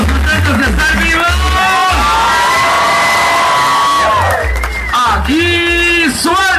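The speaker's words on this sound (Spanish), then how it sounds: "El grito chingón de los que estamos contentos de estar vivos." A loud crowd shouts and cheers at an outdoor market event at Mercado de Jamaica with a live band, sustained yelling voices filling the air, close and dense, with brief dips between bursts.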